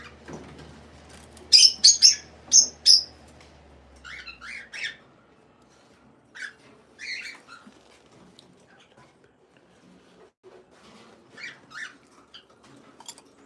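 Pet lovebirds near their nest boxes give a quick burst of sharp chirps and squawks early on, followed by scattered fainter calls and tweets through the rest, moderately close with a low hum at the start.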